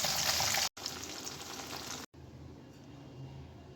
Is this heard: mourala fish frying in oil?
yes